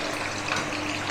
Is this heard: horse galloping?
no